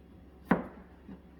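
One sharp chop of a kitchen knife through a vegetable onto a cutting board while julienne-cutting, close and crisp, followed by a faint second tap in an otherwise quiet room.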